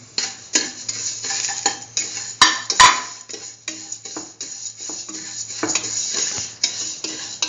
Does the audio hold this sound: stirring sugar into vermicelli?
yes